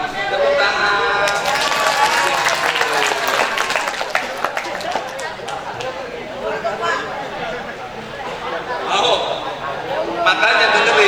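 Children at a Ramadan Islamic short course clap in a loud, bright burst that thins into chatter and scattered voices, then swells again briefly toward the end.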